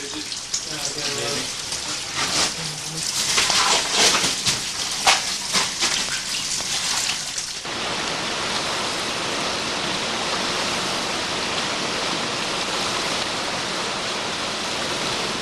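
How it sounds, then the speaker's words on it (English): A river rushes underneath a glacier, a steady broadband roar of water. Louder, uneven splashing comes first and gives way to an even, continuous flow. "we found this river that was going underneath the glacier"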